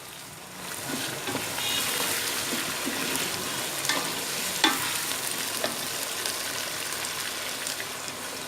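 Potatoes, tomatoes and green chillies frying in a pan for a tahari vegetable pulao, a continuous crackling sizzle that swells as they go in, with a few sharp pops and stirring sounds.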